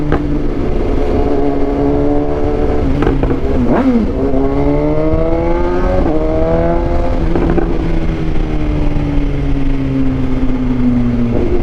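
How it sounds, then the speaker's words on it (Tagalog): Inline-four 999cc BMW S1000XR motorcycle engine revving hard and close, pitch climbing and dropping through repeated throttle blips, with sharp backfire pops between revs and no talking. "Grabe yung backfire. Naririnig nyo."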